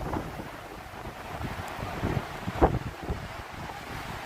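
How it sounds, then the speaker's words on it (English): Wind buffets the microphone on Wrightsville Beach, North Carolina, over a constant rushing wash of Atlantic Ocean surf, steady and broadband with one sharp thump partway through. "But this is the Atlantic Ocean here."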